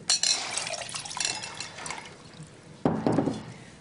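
Water poured into a glass during a calm indoor scene, a bright splashing trickle that fades then returns in a second short pour, close and alone.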